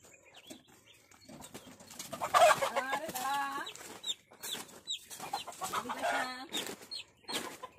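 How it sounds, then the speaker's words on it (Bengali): Backyard chickens cluck and call close by in a home poultry yard, with rising squawks in bursts and faint wing flapping between calls. "আমি কিভাবে মুরগি পালি সেটা আজকে তোমাদের দেখাবো"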